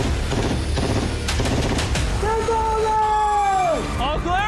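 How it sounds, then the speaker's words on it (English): Rapid gunfire aimed at a Lamborghini: loud, dense bursts of shots, followed by a rising and falling wailing tone, with voices talking throughout. "One bullet to penetrate, and it's going in his Lambo."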